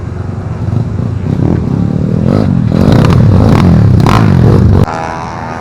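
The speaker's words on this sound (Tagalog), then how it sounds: "masyadong malakas yung mga tambutso ng motor" Loud motorcycle exhausts revving at an outdoor event, heard from a rooftop: a dense, rumbling engine roar that swells and builds over several seconds, then drops off abruptly near the end.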